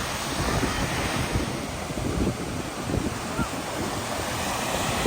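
Continuous rushing wash of fairly low Black Sea waves on the beach at Sunny Beach, Bulgaria, in the early morning, blended with gusty wind buffeting the microphone.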